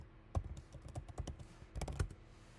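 Soft, close keystrokes on a Mac keyboard come in two short irregular clusters, quiet clicks and taps with a pause between them.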